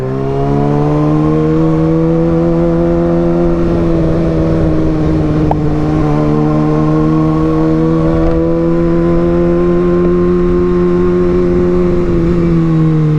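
A Kawasaki ZX6R sport motorcycle fitted with an Austin Racing GP1RR exhaust runs loud and close, holding a steady, high-pitched howl that swells slightly as it revs and stays continuous with no talk.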